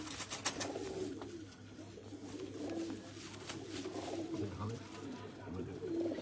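Pigeons coo steadily in a loft of champion breeding birds, including a large main pigeon and a young one, the low rolling calls repeating close by over a busy background.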